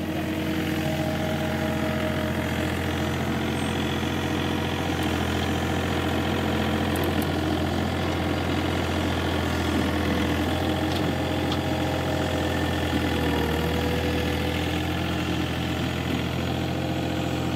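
A tractor engine runs steadily while clearing snow with a low front bucket, a continuous close idling drone with a slight knocking pulse throughout, no talk heard.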